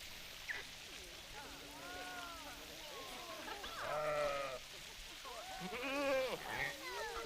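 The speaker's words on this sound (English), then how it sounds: "Yes, they are goats." Goats bleating in the zoo-management game Planet Zoo, several wavering calls overlapping one another above a steady ambient bed, with the loudest bleats near the end.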